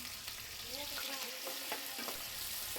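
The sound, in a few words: frying green chillies and chopped onions for mutton curry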